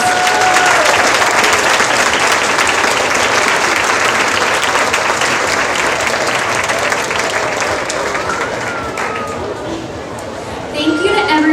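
A crowd applauds the fair royalty court at a county fair queen coronation ceremony, loud sustained clapping mixed with chatter and cheers, fading somewhat before a voice rises at the close.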